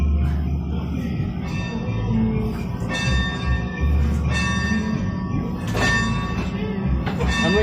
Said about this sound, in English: I'm ringing the bell.